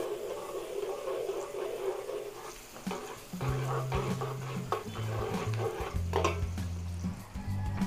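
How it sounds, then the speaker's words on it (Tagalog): Onion and garlic sauté in a pan with a soft, continuous sizzle and occasional stirring clinks. A low tonal hum and a dog bark in the background come in partway through. "Luto-lutuin lang po natin yung sibuyas at bawang."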